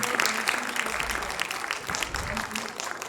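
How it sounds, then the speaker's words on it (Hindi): Audience applause at a school annual function, a dense wash of many hands clapping that runs steadily throughout, with some low murmur beneath. "प्लीज जोरदार तालियां।"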